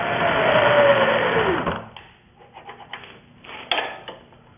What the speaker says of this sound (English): Then I spot drill and then drill a hole for a rolled pin